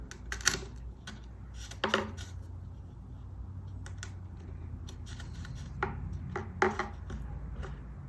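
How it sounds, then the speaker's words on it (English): Sharp chisel paring and cleaning out a router-cut notch in wood lining, a series of crisp scraping taps and short chips at an uneven pace, close and fairly quiet. "Just take a sharp chisel and come back and clean up what the router didn't do."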